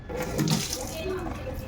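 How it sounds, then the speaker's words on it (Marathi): Moong dal being rinsed in water in a home kitchen, a continuous close sloshing and trickle of water lasting under two seconds, with faint background noise throughout. "मी दोन तीन पाण्याने हे धुवून घ्यायचं आहे"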